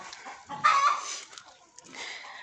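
A broody hen sitting on a clutch of duck eggs gives a few close, throaty clucks and a grumbling call, short bursts separated by quiet gaps.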